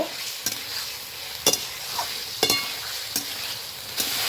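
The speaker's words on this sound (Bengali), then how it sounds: "এখন আমি এই যে ভেজে রাখা আলু এবং ওলকপি দিয়ে দেবো এখন ভালোভাবে মশলার সঙ্গে নাড়াচাড়া করে নেব" Fried potato and kohlrabi being stirred with spices in a hot pan, steady sizzling broken by about five sharp scrapes of the spatula at roughly one-second intervals, close and fairly quiet with no voices.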